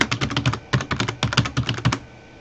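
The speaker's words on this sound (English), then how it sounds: "type in my name" Rapid bursts of keystrokes on a computer keyboard as a name is entered into a form field, close and clear, ending in a brief quiet pause.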